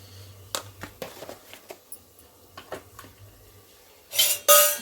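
Spoon stirring rasam in a metal pot, a series of light clinks and scrapes against the pot sides, then two louder metallic clanks at the end, with no talking.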